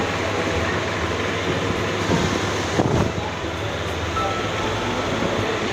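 A train sits or moves at Goghat station, giving off a steady, fairly loud rumble with a brief louder clatter midway and a faint wind-like hiss, with no clear talk.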